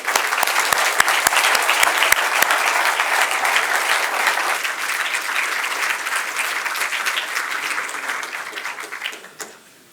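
An audience claps steadily through a farewell lecture, loud dense applause that holds strong before thinning and fading out at the end, with a few sharper claps standing out early on.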